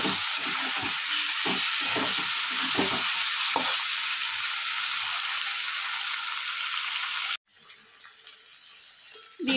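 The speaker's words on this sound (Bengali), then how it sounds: "দেবো আদা রসুন পেস্ট দিয়ে একটু ভেজে নেব।" Ginger garlic paste fries in a pan with a steady, bright sizzle, close by, while a utensil stirs in scattered scraping knocks; the sizzle briefly cuts out near the end before resuming more quietly.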